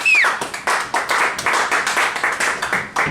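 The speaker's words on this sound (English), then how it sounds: "put your hands together, please, for Jeffrey Gurian and appreciate who he is and where you are right now" A small comedy club audience claps and applauds a comedian, a dense run of close hand claps in uneven bursts that carry on steadily for the whole stretch.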